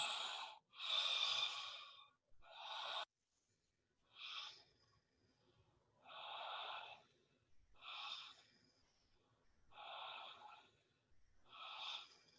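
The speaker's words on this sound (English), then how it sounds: "Let's take 10 more breaths." Deep, slow breaths during a guided breathwork exercise, about eight audible inhale-exhale cycles in a steady rhythm, close and airy, with no talking.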